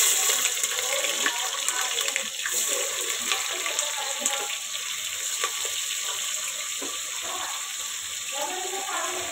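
Chopped onion sizzling in well-heated oil for a quick pea rice (vatana bhaat), a steady broadband hiss with faint crackles running throughout at moderate loudness, with no talking.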